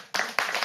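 Studio audience applause breaks out on a French television talk show, a short burst of dense clapping that starts abruptly and swells again briefly.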